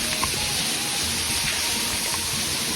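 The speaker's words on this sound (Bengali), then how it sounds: "বৃষ্টি হচ্ছে, দেখেন" Rain falls on a rooftop as a dense, even hiss that never lets up, with no clear individual drops and no voices.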